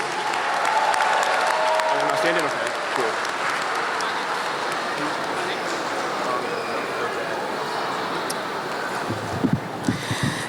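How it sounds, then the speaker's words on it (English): Sustained applause from a sizable crowd at a high school graduation ceremony fills the space, steady and lively, while a few voices speak briefly underneath. "Let's give a round of applause for all these individuals."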